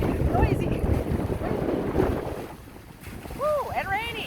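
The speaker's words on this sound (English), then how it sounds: "It's so windy." Strong gusty wind buffets the microphone outdoors beside a dam and lake, loud and continuous, with a brief lull before another roaring gust near the end.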